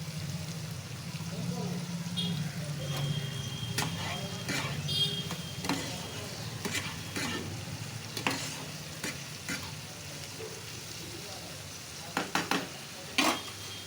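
Onions with a little sugar fry in a pan with a soft, steady sizzle, broken by occasional light stirring scrapes and clinks, heard faintly at a moderate distance.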